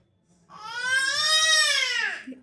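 A baby boy lets out one long, loud, high-pitched cry that swells and trails off over about two seconds, heard alone and close.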